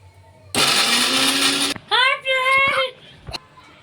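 A kitchen mixer grinder grinds green chillies in one loud, steady burst lasting about a second, then cuts off; a voice and brief speech-like sounds follow close by.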